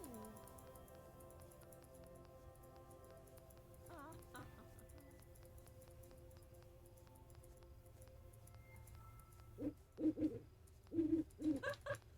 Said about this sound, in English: I hear birds and stuff.